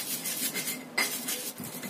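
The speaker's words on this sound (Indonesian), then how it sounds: "Kita ulek semuanya sampai halus." Repeated scraping and clinking of a stone pestle grinding seasoning with powdered stock in a stone mortar (ulek), steady and close, for Indonesian botok tempe and anchovies.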